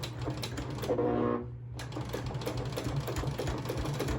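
Sewing machine stitching along the edge of a fabric drink coaster, a rapid mechanical chatter of needle strokes that halts briefly, then resumes in a steady close-up run.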